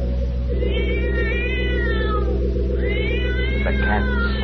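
A cat meows several times in a radio drama, long drawn-out wails over a steady low hum, close and fairly loud with no talk.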